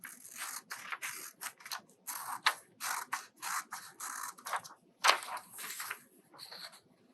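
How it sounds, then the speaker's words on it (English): Scissors cutting an octopus shape out of paper, a close run of short crisp snipping and rustling strokes in uneven bursts with brief pauses, quiet and without voices. "So you're going to cut the whole thing out."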